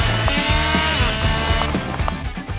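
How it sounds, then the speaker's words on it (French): A chainsaw roars at full throttle, its engine sputtering and juddering, with a brief abrupt change in tone near the end as the chain bogs down against protective safety leggings. "la scie à chaîne entre en contact avec ma jambe accidentellement"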